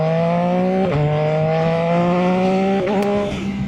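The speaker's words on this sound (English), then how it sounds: "So you will hear the power cut quite a lot in this." Yamaha MT-09 third-generation motorcycle engine droning steadily at high revs, with two brief dips where the power cut interrupts the tone during shifts, loud and close throughout.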